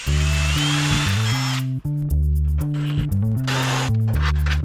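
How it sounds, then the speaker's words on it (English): A power drill bores a hole for a bolt on a 60 Series Landcruiser's center support, a loud close whine that rises and falls in steady stepped pitch changes with a brief break midway. "we've drilled a hole and put a bolt through from the back"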